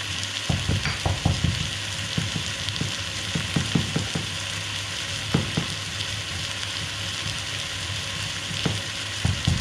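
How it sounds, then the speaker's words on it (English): Beef for boeuf bourguignon frying in a pan, a steady loud sizzle with repeated scraping and clacking as the meat is stirred and turned, close and continuous without talk. "If you cook it too long, it'll be like tough as leather and it won't soften in the oven."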